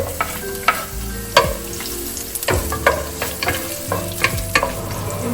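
Onion and garlic sizzle as they sauté in hot cooking oil in a pan, a steady frying hiss broken by repeated clatters and scrapes of a stirring spoon, close and fairly loud with no talking.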